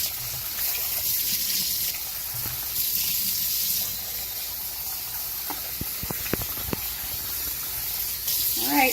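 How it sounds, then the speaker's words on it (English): Tap water runs steadily while rice is rinsed for maqluba, a continuous close hiss and splash with a few brief clinks toward the end. "the next step I'm going to be doing is rinsing my 3 cups of rice and soaking it"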